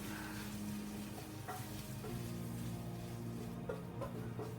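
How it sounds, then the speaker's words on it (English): Bacon and onion simmer gently in a pan, a soft, even sizzle at low level with a few faint utensil clicks. No voices are heard. "We're going to put that in with the onion and that will start simmering along very slightly"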